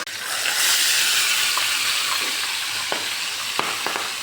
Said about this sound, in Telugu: చేపలు అయితే మొత్తానికి ఇలా వేపుకొని పెట్టుకుంటున్నాను